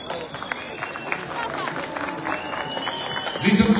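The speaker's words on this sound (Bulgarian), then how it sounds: "Аплодисменти за всички вас!" Crowd applause at an outdoor political rally against hatred in Targovishte, Bulgaria, a broad wash of clapping and crowd noise with voices mixed in, rising louder near the end.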